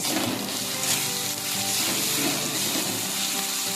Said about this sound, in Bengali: এবার এর মধ্যে পরিমাণ মতো হলুদ লবণ আর পরিমাণ মতো চিনি দিয়ে দেব আর ভালোভাবে মিশিয়ে নেব